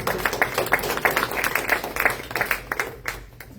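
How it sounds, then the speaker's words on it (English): An audience applauds a speaker at a talk on a Virginia reproductive freedom constitutional amendment, a moderate room of distinct hand claps pattering steadily, close and fairly loud, thinning toward the end. "I hope you'll give a little round of applause"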